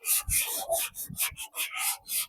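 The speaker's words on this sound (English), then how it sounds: "I can give it a good initial cut with 120 sandpaper" Hand sanding paint with 120 grit sandpaper in a home garage, a rapid series of rhythmic back-and-forth rasping strokes, close and fairly loud, with no talking.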